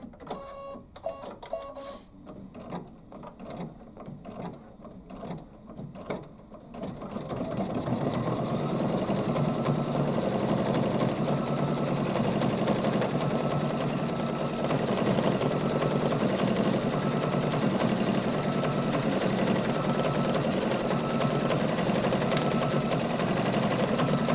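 An embroidery machine lays a top stitch over satin stitching, first ticking in quick rhythmic needle strokes, then settling into a loud, continuous whirring hum that runs steadily to the end, close and without talk.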